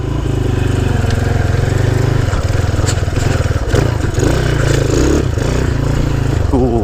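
A Honda C90 motorcycle's small single-cylinder engine chugs steadily in first gear on a slippery off-road green lane, a loud, close, even putter with scattered clatter and scraping from the terrain.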